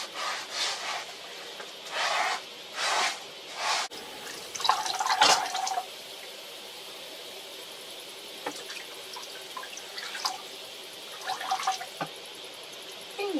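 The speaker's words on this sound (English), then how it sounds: "cup water in my hands, get it wet. I scrub it with the sponge" Water splashing and sloshing as dishes are scrubbed with a sponge, a few rhythmic scrubbing strokes at the start, then quieter intermittent drips and rubbing, close by, inside a camper van.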